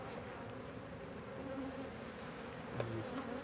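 Swarm of killer bees droning inside an opened top bar hive, a dense steady buzz with individual bees passing close, a brief sharper whine near the end.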